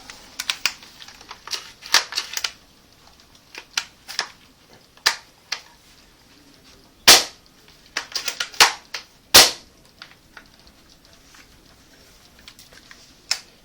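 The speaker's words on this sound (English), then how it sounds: "As you can hear, my gun did not slam fire, it actually shot." A WELL MB03 VSR-10 airsoft sniper rifle being worked and fired after a slam-fire fix: scattered close mechanical clicks and clacks of the bolt, with two sharper, louder snaps near the middle.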